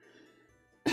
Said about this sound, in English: Oh dear me, I can't stop coughing.